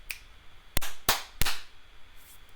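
Three sharp, separate hand claps land close and fairly loud at an uneven pace, with a fainter snap-like tick before them and quiet room tone between.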